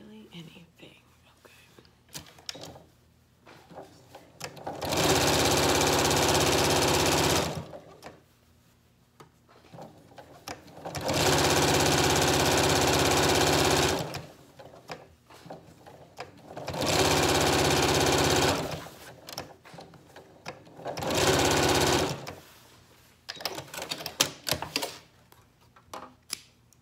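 A sewing machine stitches a Yup'ik qaspeq in four separate bursts, each a steady, even whir lasting a few seconds, with quiet gaps and small handling sounds between them.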